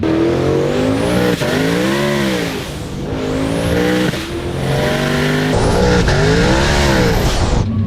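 A 2007 Shelby GT500 swapped to a non-supercharged Coyote V8 revs hard and loud in three rising and falling pulls, each climbing to a high wail and dropping away, close and with no talk.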